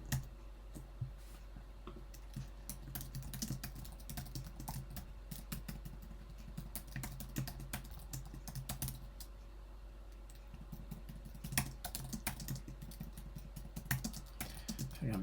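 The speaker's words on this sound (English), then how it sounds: "I'm typing" Fast, steady typing on a computer keyboard, close and fairly quiet, a continuous stream of clicking keystrokes with a few louder taps and no talk.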